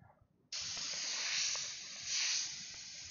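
An airbrush run at about 50 PSI sprays paint onto a T-shirt, giving a sudden steady hiss that starts abruptly and keeps going, swelling slightly at times, close and alone.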